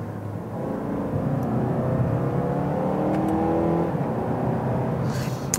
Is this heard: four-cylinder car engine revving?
yes